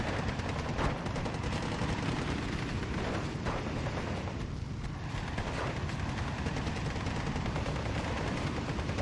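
Mortar and gunfire in Steel Division 2 keep up a continuous battlefield din of rolling booms and rapid crackling shots, dense and loud throughout with heavier thuds breaking through.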